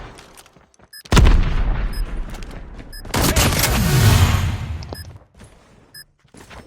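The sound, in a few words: sniper gunfire in a video game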